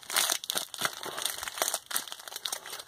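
Crinkly plastic wrapper rustles and crackles close up in quick continuous bursts as a trading card pack's packaging is handled and pulled open.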